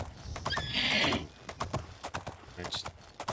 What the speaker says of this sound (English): Horse does not like the steep cliff we're running down.